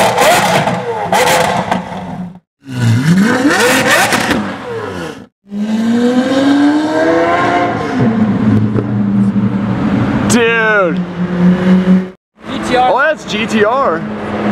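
A Nissan GT-R engine is revved hard in repeated loud bursts with rising whines and sharp cutoffs, close by. Brief near-silent gaps separate the revs.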